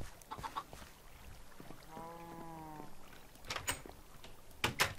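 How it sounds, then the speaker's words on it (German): Minecraft chickens in a farm give a brief run of soft, evenly spaced clucks in the middle, set among quiet game ambience and a few sharp clicks and footstep-like taps. "Hier oben in unserer Hühnerfarm."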